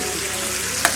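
Food sizzles steadily in a hot pan during home dosa cooking, a constant close frying hiss with one brief sharp clink near the end and no voices.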